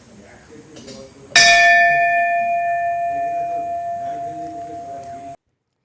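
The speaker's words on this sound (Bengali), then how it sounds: "ঘন্টাটা বাজালো, কি সুন্দর আওয়াজটা হয়েই যাচ্ছে, টং।" A temple bell is struck once, giving a bright metallic clang. The clang rings on as a long, slowly fading tone for about four seconds. A faint murmur of people can be heard in the background.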